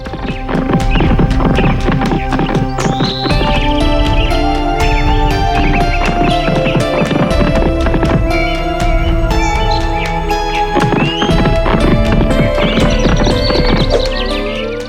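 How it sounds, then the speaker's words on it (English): Rhythmic clip-clop of horse hooves galloping uphill steadily and loudly, with a neigh and tonal music-like hum layered throughout. "rode his horse up the hill again"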